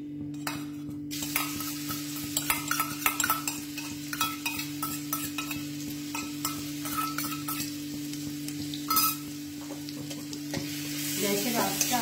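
Chopped garlic and ginger frying in a pan for a chilli omelette, stirred with a utensil that scrapes and clinks against the metal under a steady close sizzle, with a constant low electrical hum beneath.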